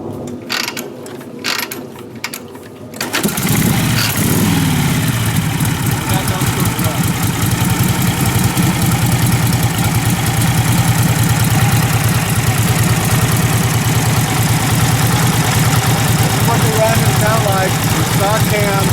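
A 1947 Harley-Davidson EL Knucklehead with its stock motor and cam catches after being kick started while a little warm. A few quiet clicks are followed by a loud, steady, lumpy idle that goes on at length.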